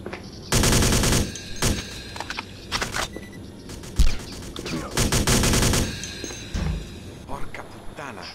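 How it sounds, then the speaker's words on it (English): Bursts of automatic gunfire from the video game Alpha Prime, several loud rapid volleys coming in waves with short gaps, mixed over game sound effects. "they're shooting once more."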